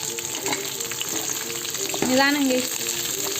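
Onions frying in hot oil give a steady, close sizzle throughout, with a brief stirring or scraping sweep near the middle while someone talks quietly over it.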